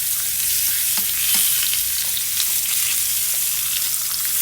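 Flipped salmon fillets fry in a pan, a steady dense sizzle with faint crackles and pops, continuous and fairly close with no talking.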